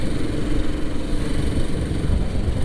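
Royal Enfield Classic 500 motorcycle engine running steadily while riding on a cold early morning in Bangalore, a continuous low rumbling drone with wind noise, close and fairly loud throughout, no talking.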